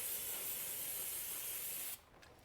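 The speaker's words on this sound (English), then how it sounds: "I'm just gonna spray this down real quick." An aerosol spray can hisses in one continuous burst over the transmission fill plug area of a 2010-2017 Toyota Camry, loud and close, then cuts off abruptly to near silence.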